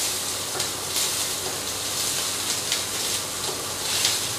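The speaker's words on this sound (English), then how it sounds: "And let this saute for another 5 minutes." Mince and tomato mixture sautéing in a pan for a mutton mousseline tart, a steady close sizzle and crackle with faint stirring, no talk.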